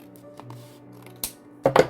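Scissors cutting across the top of a glued paper envelope: a few short, crisp snips near the end, close and clear over a quiet room background.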